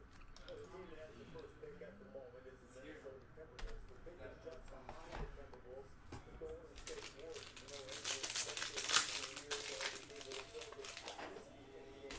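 Foil wrapping of a 2019-20 Panini Chronicles basketball fat pack crinkles and tears open up close, building to a louder rip near the end, with a voice talking underneath.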